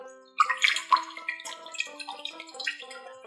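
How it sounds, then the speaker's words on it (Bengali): Water poured into tamarind for a Bengali tamarind pickle, a close splashing pour with dripping and trickling over several seconds, with no voices. "জলটা ঢেলে নিলাম"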